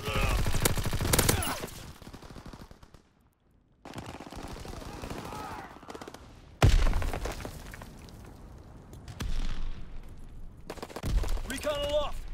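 Gunfire in a Call of Duty WWII Domination match. Rapid bursts and loud shots arrive in clusters, separated by quieter stretches, mixed with breaking-glass crashes and voices under the battle sounds.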